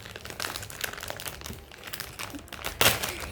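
Package of American snack food being torn open, close crinkling and rustling of the wrapper with a sharper tearing crackle near the end.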